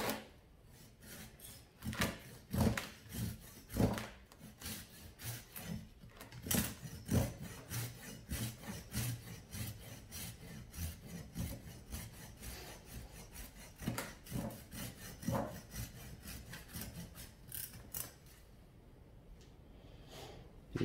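A hand saw cutting through the trunk of a trident maple bonsai, a close, rhythmic rasp of back-and-forth strokes that starts strong, continues steadily and tapers off near the end.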